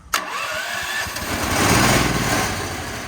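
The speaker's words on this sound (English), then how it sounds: "It's a small gas-powered compressor, Kohler engine. Compressor runs like it should." A small Kohler gas engine on an air compressor sputters to life after a brief start and keeps running steadily with a rough, buzzing mechanical drone.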